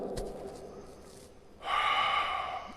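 Breathing during a yoga class exercise, with a short sharp inhale near the start, a quiet pause, then a long, loud forceful exhale through the nose, close and alone.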